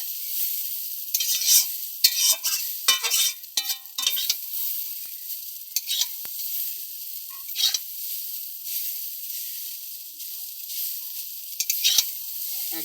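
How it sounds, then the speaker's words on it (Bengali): Chowmein noodles sizzling in a wok (kadai) while being stirred and tossed, with a continuous hiss broken by irregular scraping and clattering bursts at close range. "একদম সুন্দরভাবে ভাজা যাবে।"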